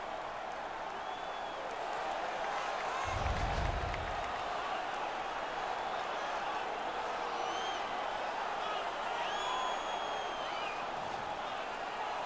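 An arena crowd in NHL 19 swells with broad cheering and applause after an on-ice hockey fight, a steady wash of noise with a short low thump early on, while commentators talk over it.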